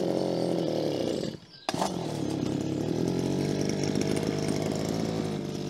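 A Stihl MS-180 chainsaw, which may need a carburettor clean, runs at a loud, steady near idle, cuts out briefly, then restarts and keeps running close by.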